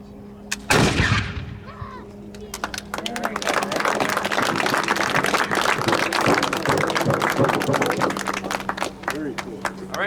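Historic musket fired at Fort George near Niagara Falls, Ontario: one loud, sharp blast early on, then a long stretch of crackling outdoor noise with voices and movement close by.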